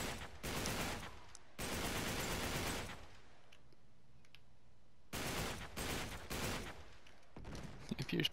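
Uncharted 3 gunfire comes in sustained loud bursts of rapid automatic fire, pausing into near quiet before further volleys and scattered shots resume.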